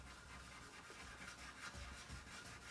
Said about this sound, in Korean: 사포가 좀 고르게 잘 돼야겠네요.